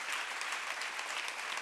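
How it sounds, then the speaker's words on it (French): Audience applause at a women's entrepreneurship event, a steady dense clapping that holds at an even level throughout, with no voices over it. "Vous pouvez les applaudir très très fort."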